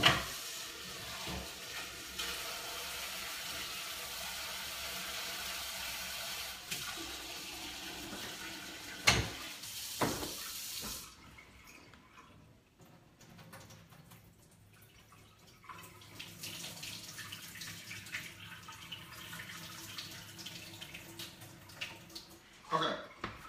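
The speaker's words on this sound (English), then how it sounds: "So I'm just gonna plop fresh ones in here, and I'm gonna give these a rinse, right? Just to sort of wash off any unnecessary stuff that's in here." Tap water runs over fresh cranberries in a sink, a steady close hiss broken by a few clunks and splashes, then a quieter spell before the flow picks up again.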